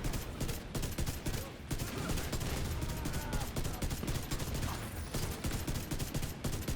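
Dense, continuous enemy gunfire in the video game Division 2: overlapping rapid shots rattle nonstop at close range, loud and unbroken for several seconds.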